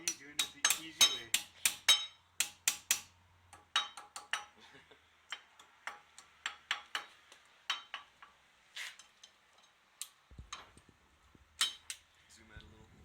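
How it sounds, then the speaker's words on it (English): Sharp metallic hammer strikes knock at a rusty front hub part on a 1998 Dodge Ram 1500 4x4, a run of quick close blows followed by slower, spaced hits with brief pauses between. "Just stick it in there and smack it out with a hammer."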